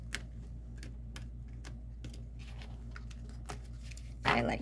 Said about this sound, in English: these cards are very difficult for me to shuffle, but we'll see how well I can do.